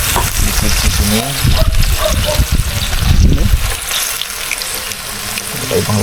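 Liquid seasoning is poured into a pan of fried milkfish with soy sauce and water, giving a loud wet splashing and sizzling, with a brief voice heard over it.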